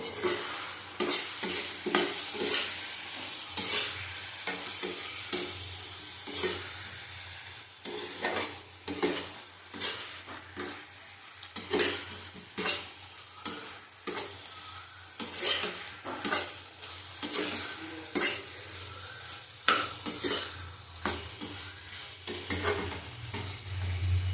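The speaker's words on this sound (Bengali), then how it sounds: "কাশ্মীরি লঙ্কার গুঁড়ো দিলাম এক চামচ ছোটো চামচের ভালো করে কষিয়ে নেবো" Spices with Kashmiri chili powder stir-fry in a pan for katla fish curry, with a low sizzle under repeated rhythmic scraping of a spatula against the pan, close and steady, no talk.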